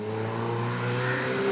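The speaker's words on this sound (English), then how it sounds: "It revs so quickly and still sounds so smooth." A Suzuki Hayabusa motorcycle's 1340cc inline-four engine revving up smoothly, a steady rising drone close by with no talking.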